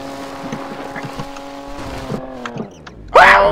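A car drifting in Garry's Mod with a monster-truck game setting, engine drone under scattered noises, then a sudden loud squealing tire screech at the end, no clear talk.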